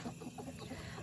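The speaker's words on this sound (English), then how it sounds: "my laying chickens will be happy out here" Laying hens clucking steadily in repeated soft calls, fairly close, with a faint background hum and no talking.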